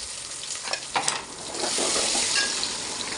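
Small onions and cut sambar vegetables, drumstick and brinjal among them, sautéing in a pan, giving a steady close broadband sizzle with a few scraping stirs near the start, no voices.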